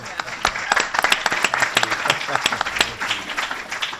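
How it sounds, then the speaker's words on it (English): An audience at an ocean filmmakers' event claps for a speaker, a loud, busy patter of individual claps with sharp distinct hits over about four seconds, some voices mixed in. "how about a round of applause for Chris?"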